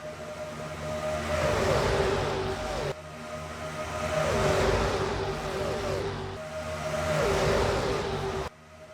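Stock car engines roar in NASCAR Racing 2003, loud and sustained, with three successive cars swelling past in rising and falling sweeps, each with a steady whine, and no talk.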